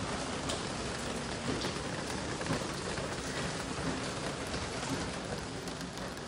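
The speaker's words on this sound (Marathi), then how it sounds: "लई डेंजर पाऊस पडतोय" Heavy rain pours down steadily, a dense continuous hiss with occasional low rumbles, and no voices.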